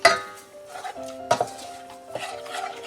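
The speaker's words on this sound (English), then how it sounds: "we're just going to give this a nice stir" Pizza sauce stirred in a pot on the stove, with a few clinking scrapes of a utensil against the pot in short bursts separated by quieter gaps.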